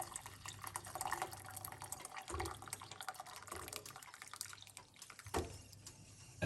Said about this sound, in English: 1 cup of hot water